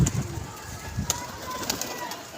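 A yellow female pigeon coos softly in a few low, brief murmurs close by, with scattered light rustling and faint background noise around it.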